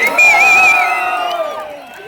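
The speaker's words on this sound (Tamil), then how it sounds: "உங்களுடைய ஆரவாரம் மகிழ்ச்சி வெற்றிக்கு அறிகுறி." Crowd at an outdoor political election rally in Tenkasi, Tamil Nadu, raising a loud, close cheer with whoops that swells and then slowly fades over about two seconds.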